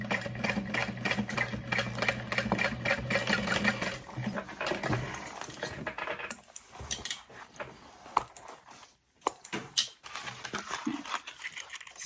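A sewing machine stitches a seam on a Betsy Bowler bag, running in a steady, fairly close whir for several seconds before it stops and quieter handling noises follow.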